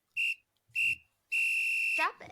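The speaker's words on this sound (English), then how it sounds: "I already hear the whistle" Three sharp, piercing whistle blasts, two short toots and then a longer sustained one that bends downward at the end, loud and close, followed by a brief bit of speech.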